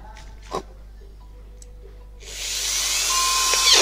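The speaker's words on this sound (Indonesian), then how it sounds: "oke kita bor" A high-pitched power drill whirs up and keeps running steadily for a couple of seconds, drilling PVC pipe for a hydroponic drainage line, close by, after a brief knock and quiet background.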